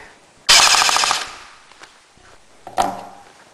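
An Echo 1 airsoft M249 on its stock battery fires a rapid full-auto burst of about a second, then a second shorter burst, loud and close with a buzzy mechanical rattle.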